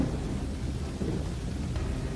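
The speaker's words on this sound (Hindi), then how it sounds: "बाहर बहुत तेज बारिश हो रही थी।" Heavy rain pours in a dense, steady roar with a low rumble of thunder rolling beneath it.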